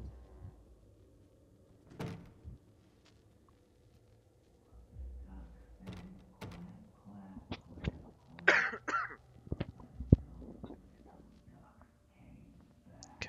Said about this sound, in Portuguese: Caraças da tosse.